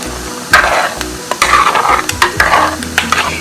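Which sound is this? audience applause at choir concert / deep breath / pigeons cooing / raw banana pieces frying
raw banana pieces frying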